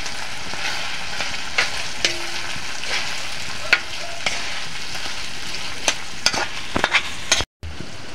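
Sliced hotdog for spaghetti fries in a pan with a loud, steady sizzle as a utensil scrapes and clacks against the pan at irregular intervals, close up, before a brief cut to silence.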